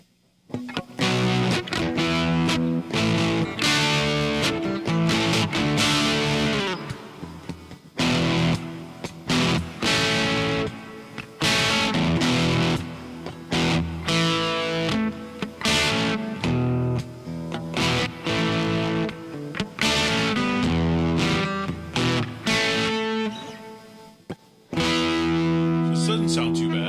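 A custom electric guitar built from cherry and walnut plays with distortion on, sustained gritty chords and riffs ringing loud and continuous with brief gaps between phrases.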